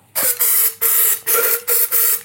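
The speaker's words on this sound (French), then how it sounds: "Toujours avec notre copain de nettoyant frein." Brake cleaner sprays onto a motorcycle throttle grip in five or six loud, close, hissing bursts, each lasting a fraction of a second and separated by short pauses.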